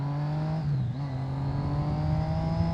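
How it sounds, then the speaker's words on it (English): A Triumph Street Triple 675 R motorcycle engine revs nearby, a loud steady three-cylinder drone that dips briefly, then holds and climbs slightly. "The number one best part of the street triple is the engine, by far."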